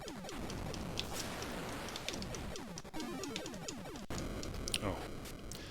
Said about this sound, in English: so that noise is actually just for shooting a certain type of building